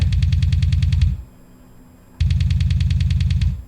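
Rifle fire in an Unreal Engine 4 beat 'em up shooter, heard as two loud, rapid automatic bursts of about a second each with a short quiet gap between, and no voices.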